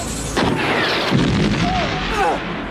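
A large explosion in a war film scene as a rocket strikes a Soviet tank in the desert, a loud blast followed by rumbling debris and mixed with soundtrack and voices.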